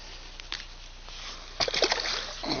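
A bass released back into the water while fishing in high country, giving a couple of brief, close splashes and a slosh after a quiet pause, with no talking over them.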